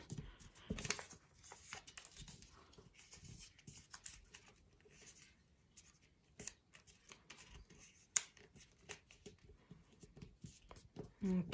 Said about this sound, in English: now I want to mash all those with the scissors handle to make sure I have really solid creases